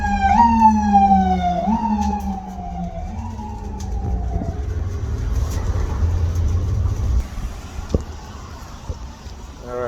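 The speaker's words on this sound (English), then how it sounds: "what you guys just heard was the ambulance passing by with the sirens" An ambulance passes with its siren wailing loud and close at first, rising and falling in repeated sweeps, then fading into a steady traffic rumble as it moves away.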